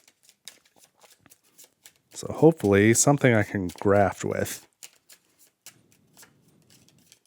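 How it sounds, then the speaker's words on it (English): Cards from a deck are shuffled in a Dune: Imperium tabletop game, with crisp scattered riffles and taps throughout and a voice speaking for a stretch in the middle. "I've got to shuffle up the rest of these for 4 more cards"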